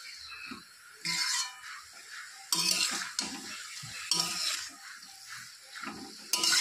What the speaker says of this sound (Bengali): একটু নেড়ে চেড়ে নিলাম